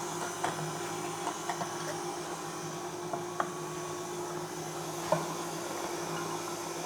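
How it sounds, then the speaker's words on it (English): An electric meat mincer runs steadily as falafel mix is pushed through it, giving off a continuous motorized whir and hum with a few soft clicks and squishy bumps, fairly quiet and close, with no talking. "And then I'll just turn on the machine."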